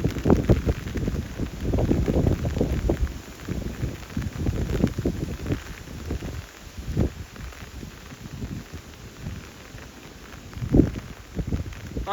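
Wind-driven rain beats down near a stopped passenger train, train 556, halted mid-route in an evening downpour, forming a continuous, rough roar with uneven gusts swelling and fading over about twelve seconds.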